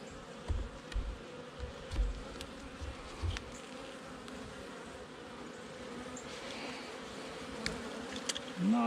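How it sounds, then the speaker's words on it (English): Bees buzzing around an opened beehive during an early-morning queen check, a steady close drone with occasional louder passes of individual insects near the microphone. "Not a whole bunch of bees in here."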